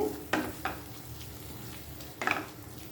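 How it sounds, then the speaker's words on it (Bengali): A dal masher stirs and mashes roasted green tomato mash in a pan, giving a few soft scraping thumps under a low steady sizzle, close by with no talking. "এভাবে ভালো করে আমি একটু নাড়িয়ে আর একটু ম্যাশ করে নিব"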